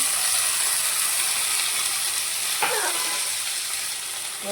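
Chopped beetroot frying in a pan for a Mangalorean-style beetroot sabzi gives a steady, close sizzle and hiss, with one brief scraping stir partway through.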